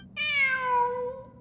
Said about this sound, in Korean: 저기 봐. 고양이야.